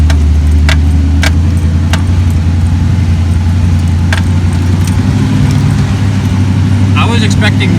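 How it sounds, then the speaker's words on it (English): A junkyard Jeep CJ5 V8 idling up a hill with no throttle, a loud steady low engine drone close by, with sharp rattling clinks throughout and a voice speaking near the end. "Idle. Let's see if we can climb this hill with no throttle."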